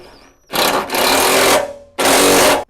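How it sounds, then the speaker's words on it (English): A power tool drives and tightens the front bumper bolts on a 2020-or-later Ford Transit. It whirs loudly and close in two bursts of roughly a second each, separated by a short pause. "I'll go in with some stronger tools and get it snugged down all the way."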